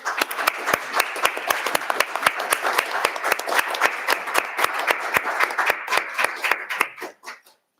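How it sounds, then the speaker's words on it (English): Applause from a small audience for panelists after a human rights panel discussion, close and loud, with sharp individual claps at a steady rhythm that thin out and fade near the end. "let's give a round of applause to our panelists"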